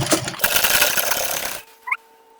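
A sewing machine stitches fabric alongside an elastic band while sewing salwar pants, one close loud burst lasting about a second and a half before stopping abruptly, followed by a faint brief click.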